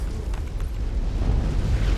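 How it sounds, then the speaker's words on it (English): Artillery cannon explosions in the MechWarrior 5 video game, a dense, continuous low rumble of booms that stays loud and heavy throughout with no separate blasts standing out. "Artillery cannons."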